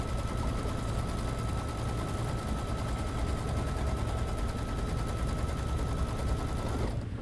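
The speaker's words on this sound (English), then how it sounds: "So again, we'll run our placement stitch so we can see where we lay our fabric." A computerized embroidery machine stitching an applique placement line runs loud and steady with rapid, even needle clatter, then stops abruptly near the end.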